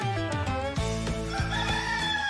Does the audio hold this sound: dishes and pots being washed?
no